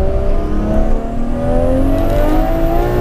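An 844 bhp Toyota Supra with upgraded cams and a big turbo accelerates hard, its engine note climbing steadily in pitch, loud and continuous throughout.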